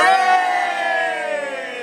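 A large crowd in a roundhouse venue shouts a loud, sustained cheer together, many voices blending into one long, slightly falling roar that fills the space.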